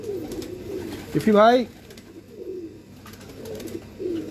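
Pigeons of a fancy flying breed coo on a rooftop loft, a short rolling coo rising briefly over steady low murmuring and someone talking nearby.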